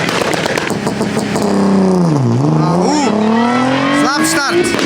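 Cars launch at a drag race start in Lesce, engines revving loud and close before dropping then climbing in pitch as they accelerate away, with a crowd and voices mixed in.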